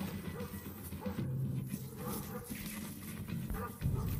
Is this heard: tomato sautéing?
no